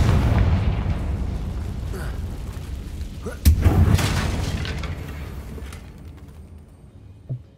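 A Confringo blasting spell from the Hogwarts Legacy video game sets off a sudden loud boom in the middle of steady in-game rumble, followed by a decaying crackle and a faint pop near the end.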